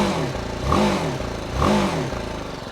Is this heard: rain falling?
no